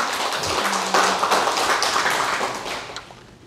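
A church congregation claps hands during a Korean sermon, a steady burst of applause lasting a few seconds that fades slightly toward the end.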